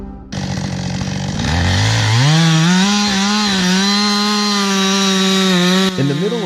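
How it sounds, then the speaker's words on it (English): Chainsaw cutting into a large tree trunk in a dense forest during logging, a loud continuous engine whine that rises in pitch as the blade bites in and holds steady, then drops briefly near the end. "a worker wearing protective gear and a hard hat was carefully using a chainsaw to cut into a large tree trunk"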